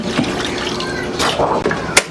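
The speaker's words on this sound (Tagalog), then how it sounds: "Maglagay tayo ng tubig." Water poured into a pot holding chicken pieces for adobo, a short splashing gush lasting about two seconds, close and moderately loud.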